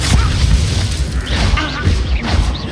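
A Leviosa spell cast in Hogwarts Legacy lands as a loud, dense boom with crashing, whooshing texture that fills the whole brief moment, dominating everything else.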